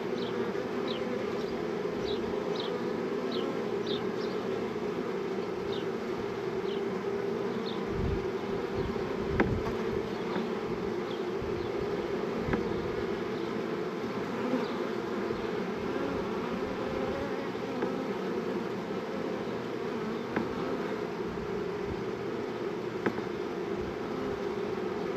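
A honeybee swarm buzzing around a hive on a homestead, a steady dense drone of many bees close by, continuous and unbroken, with a few faint thumps and no talk.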